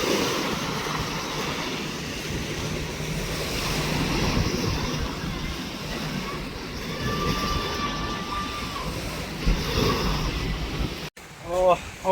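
Sea surf at a beach, a continuous broad wash of waves and wind that stays fairly steady, with a few faint tonal sounds partway through and a brief dropout near the end.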